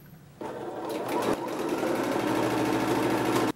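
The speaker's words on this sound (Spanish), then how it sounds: "ahora ya cosemos por aquí" Electric sewing machine stitching fabric for an eco-friendly tote bag, a steady close mechanical whir with a rapid needle rhythm that runs continuously for a few seconds before stopping abruptly.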